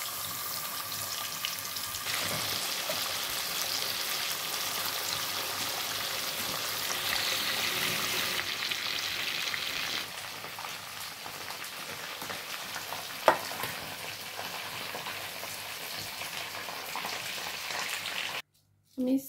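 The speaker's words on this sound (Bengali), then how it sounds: "এখন আমি ভেজে নিলাম, অল্প কিছু ফ্রাই করলাম" Chicken coated with turmeric, chili and salt fries in a pot, a steady loud hiss and crackle that runs continuously, easing slightly partway through, with a brief knock near the end.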